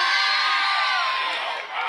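A big homecoming-night crowd cheers at a Riverdale High School varsity football game, a dense, sustained roar of many voices that dips slightly near the end.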